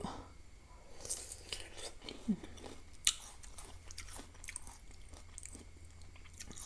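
Crunchy candied tamarind is bitten and chewed close up in a few sharp, crisp crunches spread over quiet moments, with soft whispered speech in between.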